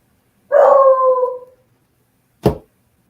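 A dog howls once, a clear mournful call of about a second that fades, followed after a pause by a short sharp bark or yip, close and loud in an otherwise quiet setting.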